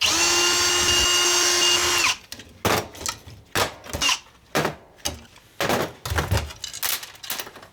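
Power tool driving out flathead screws from scrap metal, a two-second steady high whine, then a string of short sharp metallic clanks and knocks in an uneven rhythm.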